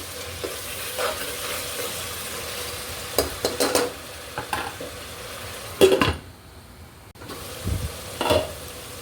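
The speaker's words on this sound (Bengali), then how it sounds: "রসুন আদার কাঁচা গন্ধটা যাওয়া পর্যন্ত অপেক্ষা করব এভাবে কম জালে নেড়ে চেড়ে দিয়ে হওয়াবো" Garlic-ginger paste stirred and fried on low heat for Bogura-style aloo ghati, a soft continuous sizzle with scattered spatula scrapes and pot clinks, a brief quiet gap, then more stirring; no voices.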